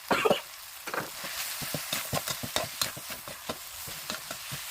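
Holy basil is stir-fried for pad kaprao in a pan, with rapid scraping strokes of a spatula repeating in an irregular rhythm over a light sizzle, close and fairly quiet with no talking.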